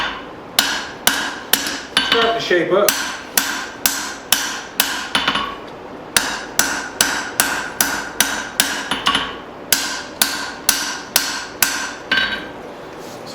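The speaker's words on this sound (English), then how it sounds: "Really trying to keep it at that 1/4 inch thickness as I hammer this thing down." Steady, rhythmic hammer blows ringing on hot steel while forging a tomahawk, about two strikes per second with a brief pause midway, close and loud with a bright metallic ring.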